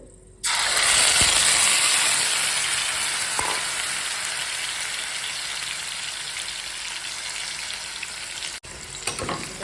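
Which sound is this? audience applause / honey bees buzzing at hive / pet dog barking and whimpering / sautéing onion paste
sautéing onion paste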